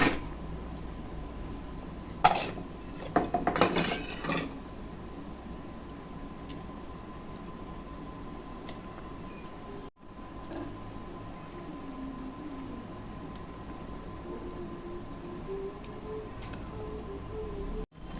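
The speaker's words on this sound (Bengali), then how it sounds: "ঝোলটা দেখো ফুটে গেছে, মাছগুলো দিয়ে দেবো।" Rohu fish going into boiling curry gravy with potatoes, a few sharp metal clinks of utensils early on, then a long, steady low bubbling hiss from the pot.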